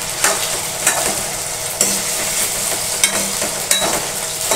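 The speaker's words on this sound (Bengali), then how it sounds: "তেলে আলুগুলো হালকা করে ভাজছি।" Potato pieces sizzle softly in hot oil for aloo posto while a spatula scrapes through them every second or so in short, distinct strokes, heard up close.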